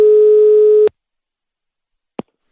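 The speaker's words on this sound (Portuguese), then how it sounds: "Agora eu vou ligar pra Alice" A steady telephone line tone sounds loud and close for under a second while a call is placed, then cuts off, followed by silence and a single brief click.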